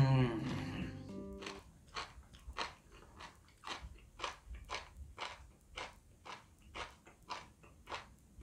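Close, crisp crunching of raw garlic chives eaten with egg yolk and dashi soy sauce, a steady run of wet bites and chews after a brief opening chime, with no talking.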